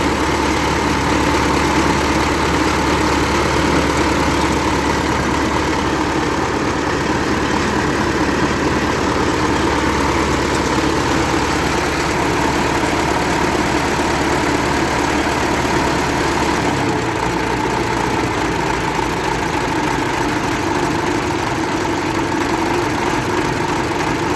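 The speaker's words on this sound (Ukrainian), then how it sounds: "оберти і він не глохне" A YuMZ-6 tractor's diesel engine idles steadily and loudly after fuel system and injector repair, a continuous low rumble with a slight shift in tone near the end.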